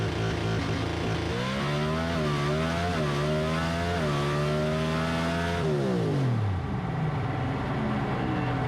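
Drag racing car at full throttle, a loud roaring engine climbing in pitch and shifting through a couple of gears in quick succession, then the note drops away as it backs off, no talking.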